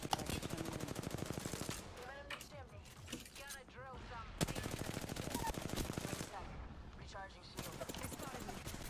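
Rapid, dense machine-gun bursts in a video game shootout with shields and reloading, almost continuous apart from short gaps, loud and close with game noise between bursts.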